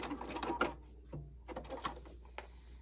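A sewing machine stitching around the fabric edge of a bunny treat bag, short close mechanical whirring bursts with clicks and pauses between them, fairly quiet.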